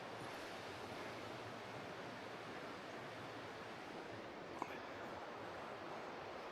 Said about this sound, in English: Looks like that's called the South Fork Stillaguamish River